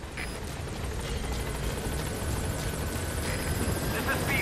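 A helicopter arrives at a landing zone in Metal Gear Solid V: The Phantom Pain, its rotor droning and whirring steadily and growing slightly louder, with faint game radio chatter in the background.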